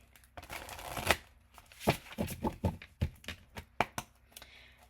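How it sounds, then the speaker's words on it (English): Quiet, close riffling and tapping of oracle cards being shuffled, a series of soft irregular flicks and slaps. "they want me to shuffle."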